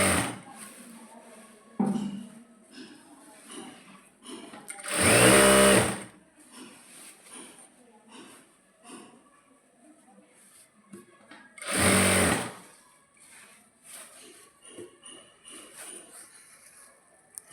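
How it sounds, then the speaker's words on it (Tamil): An overlock sewing machine stitching a joined centre piece of a maxi dress in two bursts, each a loud buzzing run of about a second, between stretches of quieter talk. "அதை மட்டும் நம்ம தனியாக ஓவர்லாக் போட்டுக்கணும்."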